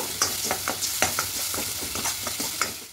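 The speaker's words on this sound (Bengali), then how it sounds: "এরকম যে মশলাটা রেখেছিলাম বাটির মধ্যে তুলে বেটে দিয়ে দেবো। এবার খুব ভালো করে কষিয়ে নেব।" Ground spice paste is stirred and fried in a pan for chana dal with coconut, with regular spatula strokes scraping the pan every fraction of a second over a close, continuous sizzle.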